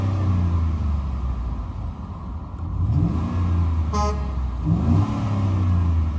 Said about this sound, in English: I'm gonna rev it up for you so you can hear it.